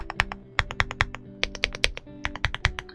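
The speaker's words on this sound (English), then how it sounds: "this truly is probably one of the deepest stock plastic keyboards that I've come across" Rapid typing on an Aula F75 Pro plastic mechanical keyboard, close-up, deep clacky keystrokes in quick irregular bursts with no talk.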